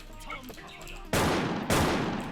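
Gunfire in the online shooter Wolfteam: after a few seconds of quiet game sounds, a loud sustained burst of rapid shots erupts, briefly dips, then resumes just as intensely at close range.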